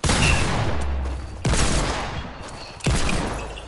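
Three loud, sharp gunshot blasts from a Deagle pistol and shotgun in the video game Fortnite, spaced about 1.4 seconds apart, each with a decaying tail and no talk.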